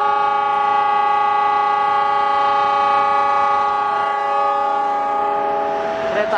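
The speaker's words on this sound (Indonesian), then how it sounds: "Lokomotif CC 201-8316." Indonesian railway CC 201 diesel locomotive 8316 passing close by, a loud steady drone with strong sustained tonal harmonics from the engine over rumbling wheel and rail noise throughout.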